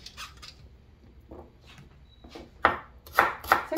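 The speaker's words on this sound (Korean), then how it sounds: "이제 생강을 썰어보겠습니다" A knife slices peeled ginger thinly on a board while radish water kimchi is prepared, giving a few soft cuts and then a quick run of louder, crisp chops near the end.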